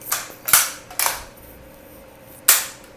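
An IOF 315 caliber bolt action rifle is cycled after assembly, giving sharp metallic clacks: three quick clicks in the first second, a pause, then one more snap near the end, close and clear with no talk.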